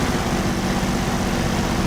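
Failing aircraft engine in the DCS flight simulator, a loud, steady low drone and roar that runs unbroken through the whole moment with no voices.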